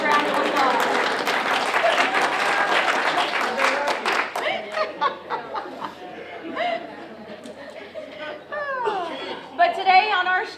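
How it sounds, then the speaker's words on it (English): Studio audience at a United Way kickoff show breaking into loud, close applause for a champion of the United Way Games, the clapping dying down into chatter and light laughter. "That deserves a round of applause."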